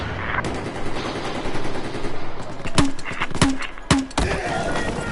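Sniper and rifle gunfire in Battlefield 4 multiplayer, several sharp close shots cracking at irregular intervals over a dense bed of battlefield noise and engine rumble.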